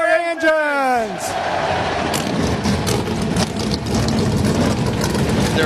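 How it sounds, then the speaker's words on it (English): NASCAR race car engines at North Wilkesboro Speedway roar into a loud, sustained rumble after a brief voice at the start. "Drivers, start your engines."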